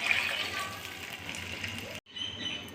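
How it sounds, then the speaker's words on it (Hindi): Water is poured from a jug into a cooking pot of lightly browned chicken pieces for soup, a steady splashing, gurgling stream close by that cuts off sharply near the end, then resumes more quietly. "और अब हम इसमें पानी शामिल कर देंगे।"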